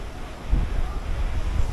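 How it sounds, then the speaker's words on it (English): Sea waves at Aruba rumbling low and steady outdoors, heard from a resort balcony, mixed with gusty wind buffeting the microphone. "There's the sea. You can hear it"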